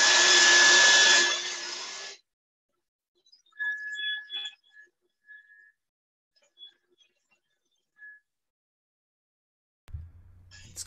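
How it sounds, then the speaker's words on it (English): A hairdryer blows loudly for about two seconds and cuts off, followed by near silence with a few faint tones and clicks. "what I will do now is use the hairdryer,"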